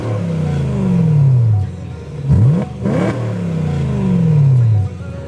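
A BMW M3 fitted with a new race exhaust, revved hard twice with long rising pulls, quick blips in between, close and loud with no talking.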